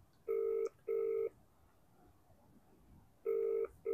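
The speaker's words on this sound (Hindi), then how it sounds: "she's calling Anika auntie in Lucknow." Telephone tones during a call to a relative in Lucknow: two steady beeps, a pause, then two more, fairly clear over a quiet room.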